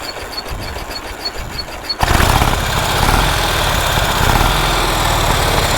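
A 108-year-old Harley-Davidson motorcycle engine fires up after a couple of seconds of quiet, then runs steadily and loudly with a dense, rough mechanical rumble.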